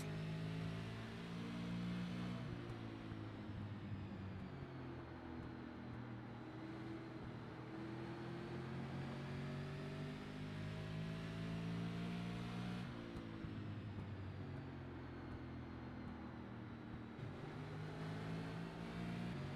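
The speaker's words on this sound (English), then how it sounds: "You can hear that throttle being applied really late on exit." A racing car engine in an iRacing sim race at USA International Speedway drones continuously, pitch rising and falling with late throttle on corner exits, at a steady moderate level with no voices.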